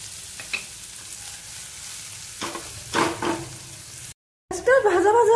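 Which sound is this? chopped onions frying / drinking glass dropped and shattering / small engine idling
chopped onions frying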